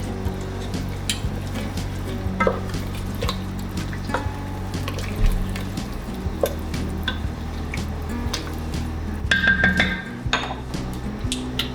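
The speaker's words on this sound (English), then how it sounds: "And now we'll give it a quick stir" A spoon clinks and scrapes against a pot while homemade garden tomato sauce is stirred, giving scattered sharp taps and clatters over a low steady hum, close by with no talking.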